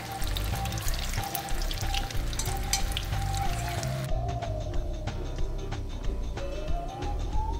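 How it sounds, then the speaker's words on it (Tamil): Cauliflower gobi pieces frying in hot oil make a dense, continuous crackling sizzle close by, steady from start to end with no speech. "ஒன்றா போட்டு ஃப்ரை பண்ணி எடுத்துடலாம்."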